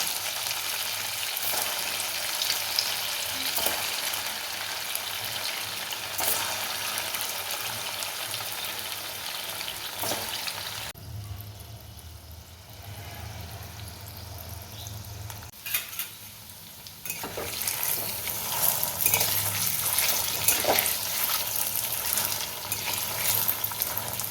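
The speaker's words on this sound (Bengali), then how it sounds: "মিডিয়াম ফ্লেমে বলগুলো হালকা করে ভেজে নিতে হবে।" Paneer kofta balls fry in oil in a wok over medium flame, giving a steady close sizzle that dips quieter midway and then swells again, with no talking.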